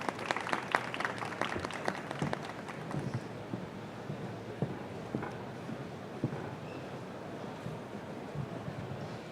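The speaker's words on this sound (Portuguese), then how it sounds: "Por favor, Girane, uma salva de palmas." An audience at a fintech conference session applauds, with dense clapping that is strongest at the start and thins out into sparse scattered claps and room noise.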